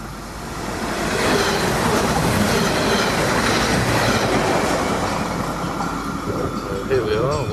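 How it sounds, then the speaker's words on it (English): Heritage 1950s train at an Isle of Wight railway station, a loud rumbling roll with clattering wheels and rising squeals as it runs close past the platform, steady throughout. "Here we are, waiting for the train, and I'm sure it'll be on time."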